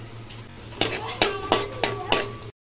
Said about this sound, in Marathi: टोप ठेवलेला आहे, त्याच्यामध्ये 1 पळी तेल टाकलेले आहे। आपण काजू फ्राय करून घेऊया।